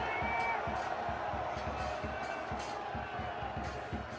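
Stadium crowd at a men's college soccer final between Washington and NC State, a steady loud roar with rhythmic chanting and clapping pulses, while a commentator speaks over it.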